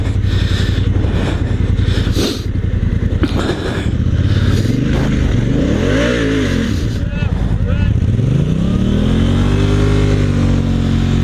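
Dirt bike engines revving and accelerating on dirt while testing Kenda Big Block street-style ADV tires, loud rising and falling engine pitch throughout with people talking over it.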